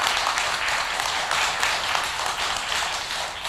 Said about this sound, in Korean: 모두 존경과 감사의 박수를 크게 한번 치겠습니다.